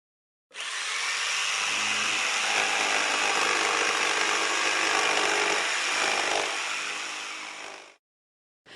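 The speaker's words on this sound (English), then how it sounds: "You have a band saw, you have a circular saw, and this one makes this sound." A loud, steady, high-pitched rasping whine of a circular saw cutting through wood for several seconds before stopping abruptly.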